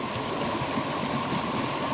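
Water rushing along a small creek, a steady, close, broadband wash that holds an even level throughout with no voices.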